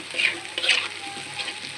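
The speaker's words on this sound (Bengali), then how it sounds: "মশলা একটু ভাজতে হবে" Spices for a hilsa fish curry fry in a pan with a steady bright sizzle that swells in two stronger bursts, as if stirred, then settles into an even crackle throughout.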